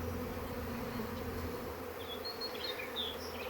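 A honey bee swarm hums in a steady, dense buzz that fills the air continuously, fairly close, with no voices.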